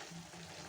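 Brain and drumstick (sajina) curry frying in a covered pan with its water drying off, a steady close sizzle throughout with no talk.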